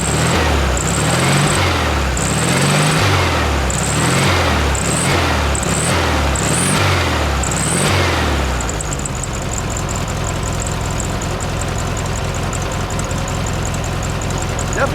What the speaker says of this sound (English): Let me rev it up a few times.